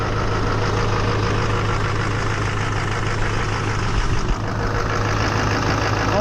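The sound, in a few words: Chevy Duramax truck engine idling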